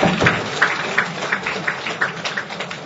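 An audience claps to welcome a professor to a lecture hall podium, a dense, fairly loud patter of applause with rhythmic bursts from the crowd.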